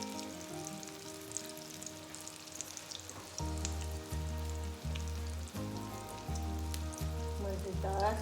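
Kebabs fry in a pan with a steady, quiet sizzle and crackle that continues throughout, while faint spitting pops come and go over the heat.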